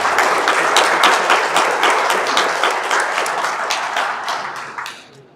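Loud, sustained audience applause with dense clapping from a crowd at the WESPAC 2025 world English-language Scrabble championship opening in Accra, holding steady before tapering off toward the end.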